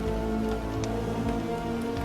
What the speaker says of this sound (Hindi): बेटा सरवरी, हवा और बारिश के कारण चिता बुझ रही है